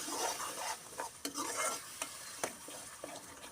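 Ground masala hits a hot pan for a chickpea gravy, a soft steady sizzle beneath quick scraping strokes of a spoon stirring it around, faint and close.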